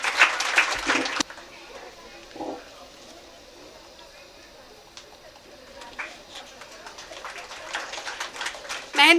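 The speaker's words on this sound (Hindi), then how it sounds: "जोरदार तालियों के साथ।" Loud audience applause at a women's day felicitation and prize distribution ceremony, with dense clapping bursts at the start and again building toward the end, separated by a quieter, murmuring stretch.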